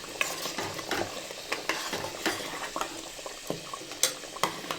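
Telangana-style mutton curry being stirred with coriander in a pan, a metal spoon scraping and clinking in steady strokes over a soft simmering sizzle, close and fairly quiet with no talk.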